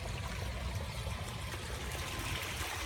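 Water trickles and gurgles steadily in a koi pond with water lilies on an aquaponics farm, a soft, continuous flowing sound up close with no voices.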